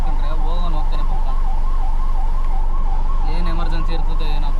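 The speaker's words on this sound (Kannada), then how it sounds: "ಆಂಬುಲೆನ್ಸು ಅಲ್ಲಿಂದ ಬಂತು ಗುರು ಹಿಂದೆಯಿಂದ" A loud wailing ambulance siren sweeps up and down in busy traffic, coming from behind, steady throughout over engine and road noise.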